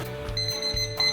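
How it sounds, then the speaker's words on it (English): A kitchen timer alarm sounds during lunch cooking of pan-fried pita bread and broccoli, an electronic ringing tone over a steady hum, close and alone with no voices. "I'm going to set a timer"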